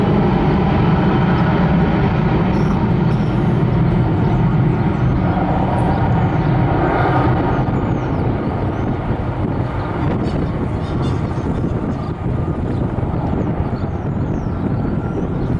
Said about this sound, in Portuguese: olha o ronco do motor